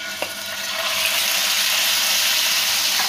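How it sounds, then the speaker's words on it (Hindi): Marinated chicken sizzles and fries in about a tablespoon of oil in a pan, a steady loud hiss with a few small pops, no voices. "अब चिकन को ये फ्राई करेंगे"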